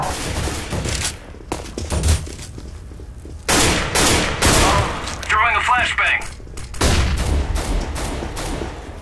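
A flashbang grenade going off in the Counter-Strike video game, sharp loud bangs among bursts of gunfire in a busy firefight, with a brief ringing tone mid-way.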